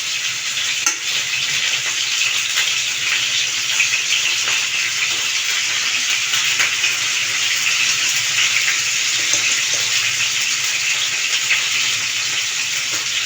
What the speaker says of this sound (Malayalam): അപ്പോൾ നമുക്കത് വറുത്തെടുക്കാം.